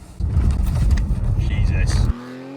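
Racing video game car engine, driven with a belt-driven sim racing wheel, roars loud and steady for about two seconds before cutting off abruptly, with speech over it.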